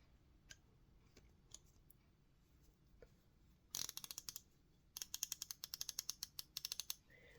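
A Craftsman V-Series ratchet clicks close up, with a first burst of rapid clicks followed after a pause by a longer run of sharp, evenly spaced pawl clicks, all fairly quiet with no talking.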